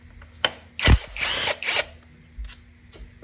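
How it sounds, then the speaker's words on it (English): A ratchet spins off a 10 mm bolt holding the wiring harness on a 2001–2005 Honda Civic engine, with a few close, sharp clicking pulls in quick succession and no talk. "Just going to remove this 10 mil that holds the harness."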